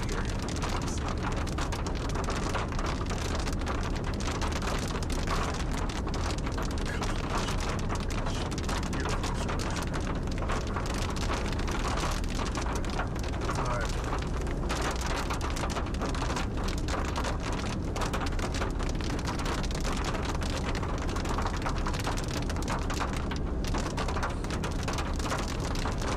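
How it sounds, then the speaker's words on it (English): Steady heavy rain pours throughout during a severe storm, loud raindrops pattering hard on a surface close by with a constant dense hiss and no voices. "Just rain. It's those noisy raindrops."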